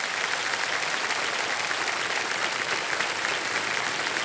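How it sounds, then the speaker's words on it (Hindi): Loud, steady applause from a TV game-show studio audience on KBC, a dense even roar of clapping that holds at full strength throughout with no talk over it. "तो एक बार फिर जोरदार तालियां बज जाए स्नेहा जी के लिए।"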